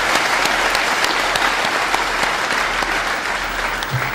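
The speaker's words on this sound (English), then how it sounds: "let us give them another clap as we welcome each one of them" Sustained applause from a crowd, steady and full for several seconds, with no talking over it.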